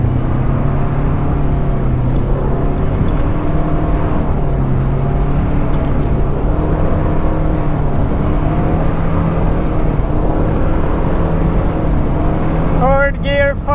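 A Volvo 740 engine held at full throttle in third gear while driving in snow, a loud steady drone with shifting harmonics running close and continuous, with voices underneath.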